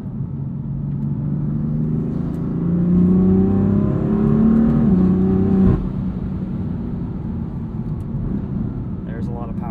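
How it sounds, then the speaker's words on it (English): A 530 hp 2015 BMW M4 with a DCT gearbox accelerates, its turbo engine spooling up in a rising whine over a rumbling drone, then dropping back sharply, heard from inside the car with brief speech. "You can hear those turbos spool up."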